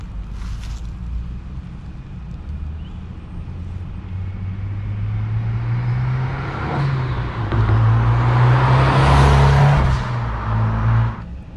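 A Honda S2000 sports car driving on a quiet road, its engine and exhaust droning steadily and building as it accelerates and revs higher, then easing slightly at the end, with wind noise on the microphone.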